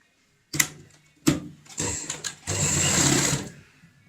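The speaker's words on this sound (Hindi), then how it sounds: "यहाँ से एक एक करके इस तरीके से यहाँ पे सिलाई लगाएंगे" A sewing machine stitches cut fabric pieces together for a homemade door mat, running in short loud bursts with brief pauses between, then a longer continuous run of whirring stitching.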